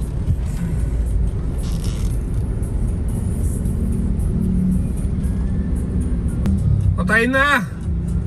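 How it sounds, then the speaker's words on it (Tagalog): A Honda CRV's engine rumbles low and steady in road traffic, with a brief higher whine rising near the end and a voice speaking briefly over it. "Eto na ang traffic."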